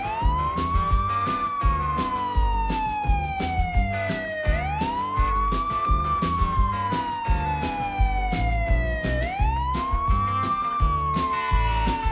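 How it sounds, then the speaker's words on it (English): A police car siren in the video game Ice Scream 7 wails in repeated rising and falling sweeps over a busy, rhythmic game soundtrack, steady and fairly loud. "Police car."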